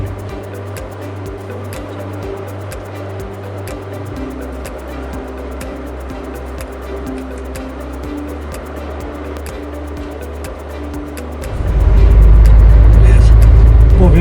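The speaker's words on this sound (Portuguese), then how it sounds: "Sempre acelerando na faixa de torque econômica do carro." Mercedes-Benz Axor truck engine held at low, economical revs in a steady pulsing drone, heard from inside the cab; near the end a loud burst of low rumble swells up and dominates.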